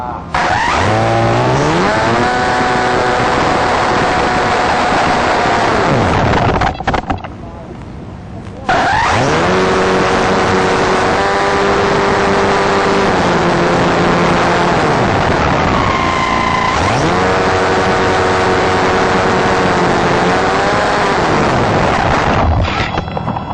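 A model airplane engine screams at full throttle at a flying field in Ligang, its loud, rising and falling whine continuous apart from a brief drop near the middle, with voices talking underneath.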